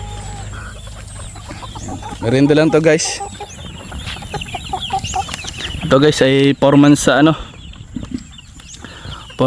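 Chickens cluck in short harmonic bursts, loud and close, around two brief stretches, with someone talking over the farmyard noise between them.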